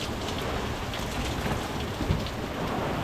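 Heavy rain pours steadily with a low rumble of thunder rolling beneath it, a continuous dense wash of drops close by with no voices.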